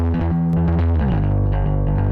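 A recorded bass track, played high up the neck with distortion and the EQ switched off, rings out loud and gritty, sustaining notes that shift pitch partway through, alone with no talk.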